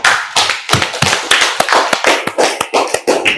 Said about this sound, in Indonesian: berikan aplaus untuk Ananda.